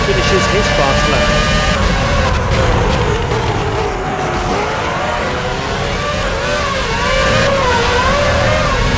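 A Formula 1 car engine screams at high revs around the Hockenheim circuit in F1 2006, loud and continuous with rising and falling pitch as it shifts gears, and a voice speaks over it.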